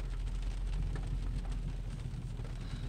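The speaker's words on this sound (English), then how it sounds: "Oh, do you hear that? Ah, it's gonna be a storm." Steady storm rain pours outdoors, heard through a back window as a dense continuous hiss with low rumbling underneath, even and unbroken without speech.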